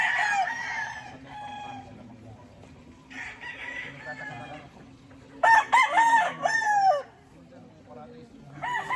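A Boston gamefowl rooster crows several times in separate bursts, the loudest and closest call coming near the end, with quieter clucking and other fowl in between.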